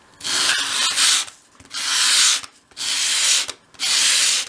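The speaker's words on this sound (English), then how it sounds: "with your sandpaper flat on your work surface, hold the piece at a 45-degree angle and sweep it towards you" Sandpaper laid flat rubs against a small wooden dolls-house wardrobe piece held at an angle to bevel its edge, four loud, even, hissing strokes close up with short pauses between, no talk.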